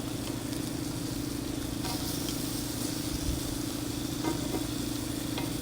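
Scallops searing in a hot cast iron pan give a steady, even sizzle with a low constant hum beneath it and a few soft clicks and scrapes.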